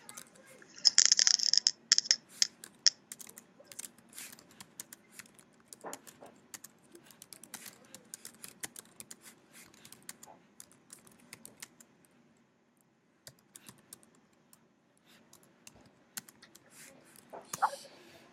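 Someone types an instant message on a computer keyboard, giving sparse, irregular key clicks close up that come in small flurries and pauses over a quiet room, with a brief higher noise at the start.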